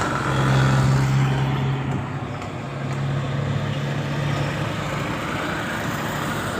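Highway traffic on the road to Manila and Bicol, beside the Hebron gasoline station in Pagbilao, Quezon: a steady roadside rumble of passing cars and trucks, with a low engine drone swelling and fading as vehicles go by.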